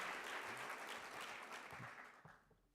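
Audience applause at an arts grantmakers' conference, a dense, steady wash of many hands clapping from a large crowd that holds loud for over two seconds and then begins to thin out.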